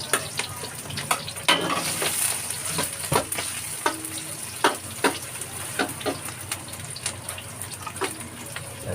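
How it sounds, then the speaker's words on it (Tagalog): Garlic and onion hitting hot oil in a pan, a bright continuous sizzle punctuated by repeated sharp spatula scrapes and clatters, close up, with no talking. "mainit na mantika ha. Magigisa na ako."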